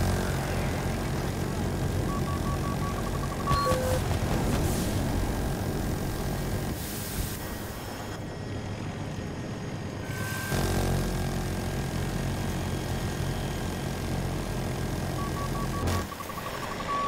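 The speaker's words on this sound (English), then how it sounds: "There's a jet on me all the time here" Jet aircraft roaring overhead in the video game Battlefield 2042, a loud continuous engine rush filling the scene with swelling passes and combat rumble beneath.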